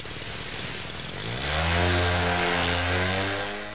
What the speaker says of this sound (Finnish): Ei muuta kuin moottori käyntiin ja taivaalle.